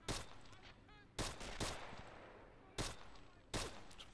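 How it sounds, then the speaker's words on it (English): Carbine gunfire in the WWII strategy game Men of War Assault Squad 2 at Castle Itter: four sharp, loud shots spaced unevenly, each with a rolling tail, over constant battle ambience. "Carbine work there. Nice."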